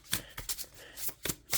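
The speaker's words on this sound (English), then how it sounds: "so how I make sure that I shuffle reversals in" A tarot deck is overhand shuffled in quick, uneven bursts, each a soft crisp riffle of sliding cards, close and quiet, repeating about six times.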